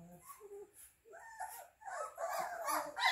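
Young Newfoundland puppies whimper and yip close by, with thin high whines rising into a cluster of overlapping cries toward the end.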